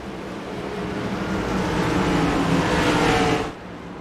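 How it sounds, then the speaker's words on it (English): Engines of race cars and a pace car in the iRacing sim during a Bluegrass iRacing Series Cup race, a steady loud broadband drone that swells as cars pass, then drops off near the end. "As you see the pace car coming down the front area, down pit road, down the front straightaway."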